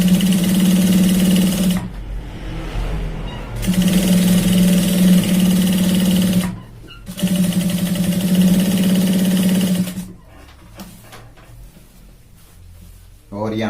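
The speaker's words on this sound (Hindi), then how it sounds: "यहाँ से हमें एक लब की सिलाई लगा लेनी है इस तरह से।" A sewing machine stitches a shirt's shoulder seam in three steady motor runs of a few seconds each, separated by brief pauses, with a quieter stretch of low noise at the end.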